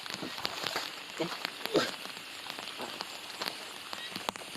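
Rain patters steadily on a surface, with scattered sharper drops and taps throughout, fairly close and soft.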